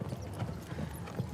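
Big horses pulling a four-in-hand carriage at speed on a driving-championship cones course, their hooves clip-clopping in a quick, steady rhythm at moderate distance, with faint rattling of harness and carriage.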